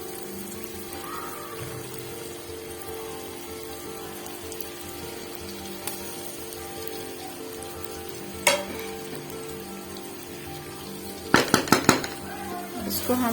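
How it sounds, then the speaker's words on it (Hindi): Boiled egg slices stirred into masala gravy with a spoon, a steady low sizzle throughout, a few sharp metallic scrapes and clinks of the spoon against the pan near the end, and a brief spoken phrase. "चम्मच की मदद से हिलाएंगे ताकि मसाला जो है वो इनके अंदर मिक्स हो जाए"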